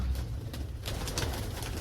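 Soft pigeon cooing repeats close by over a steady low rumble of background noise, near a baby pigeon.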